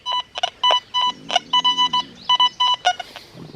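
Deus 2 metal detector with an 11x13 coil gives a run of short, clean electronic beep tones in quick irregular bursts, close and fairly loud, with no talking.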